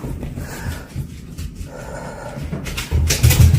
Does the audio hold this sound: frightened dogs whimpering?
yes